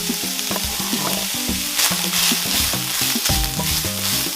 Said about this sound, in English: Add ground beef to a hot pan and brown.